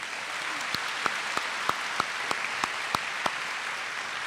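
Upper school awards audience applauding the honoured students, a steady bed of clapping with one nearby clapper's sharp, evenly spaced claps standing out about three times a second.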